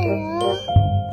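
A phone message notification chime rings out in a short tonal jingle, sustained bright tones over a low hum, followed by a couple of fainter ding-like hits near the end.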